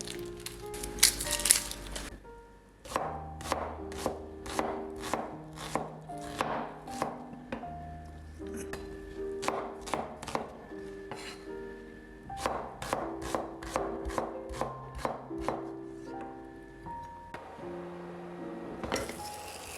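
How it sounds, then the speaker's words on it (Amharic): A knife chops a medium onion on a board for Ethiopian beef tibs: a long run of sharp, evenly paced knocks, close and clear, pausing briefly between bursts, with faint dish clinks and no talking. "እንከትፋለን።"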